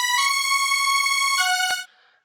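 A bright synth lead from the free Flex plugin plays a short sustained melodic phrase, loud and clean with rich harmonics, in a melodic dubstep production, then cuts off into a brief fading tail.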